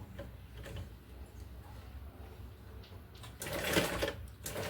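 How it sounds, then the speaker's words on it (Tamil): Sewing machine stitching waste cloth into a tote bag, a steady mechanical whir with ticking beats that swells louder near the end, running alone with no talk. "இப்போ நான் சுற்றி ஸ்டிச் பண்ணி காமிச்சேன் பார்த்தீங்களா, அந்த ஷேப்பில் தான் நீங்கள் வந்து ஸ்டிச் பண்ணணும்"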